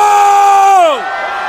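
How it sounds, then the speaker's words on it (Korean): A loud, sustained shout that drops in pitch at the end, over a broad roar of a cheering crowd at an outdoor political rally in Gwangju, South Korea. "여기 10대 있으면 전방으로 함성!"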